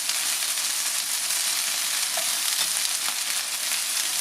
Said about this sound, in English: we've just about browned the meat